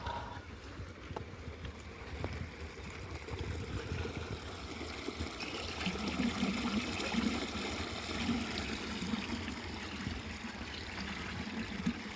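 Irrigation water mixed with jeevamrut trickles into a tobacco field, making a faint, continuous low gurgle and splash that stays steady throughout with no talking.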